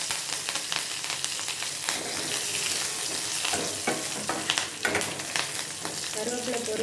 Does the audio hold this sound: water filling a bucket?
no